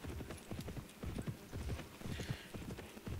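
Horse hooves clip-clop in the horse-riding video game Pippa Funnell Ranch Rescue, a steady near rhythm of hoofbeats at a lively pace, fairly quiet throughout.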